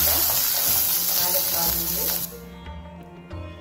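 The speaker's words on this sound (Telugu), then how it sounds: "కొంచెం కరివేపాకు వేస్తున్నాను. కొద్దిగా ఇంగు వేస్తున్నాను." Curry leaves and asafoetida hit hot oil in a dense, loud sizzle that crackles briefly and then drops off sharply after about two seconds, leaving a quieter hiss.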